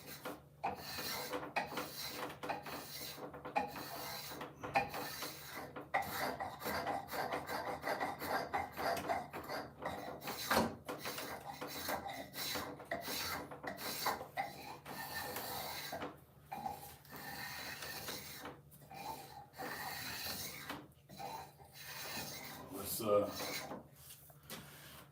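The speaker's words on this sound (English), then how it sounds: "I'll make one pull with the spoke shave." A spokeshave is drawn along wood with repeated rasping, scraping strokes at close range, steady through most of the stretch with brief pauses, under faint background noise.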